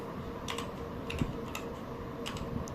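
Clicky computer keys tapped in short irregular bursts while editing a configuration file for Cyberpunk 2077 upscaling on a ROG Ally, close and fairly quiet over a low steady hum.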